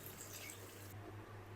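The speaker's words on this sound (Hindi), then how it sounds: "तो इस टाइम पे आके इसके अंदर थोड़ा सा पानी ऐड करेंगे।" Water is added to egg korma in a cooking pan, a steady soft splashing and pouring hiss with faint drips under a low background hum, no voices.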